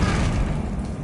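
Flipendo knockback spell in Hogwarts Legacy, a short heavy thudding boom with low rumble, loud and close, fading slightly toward the end.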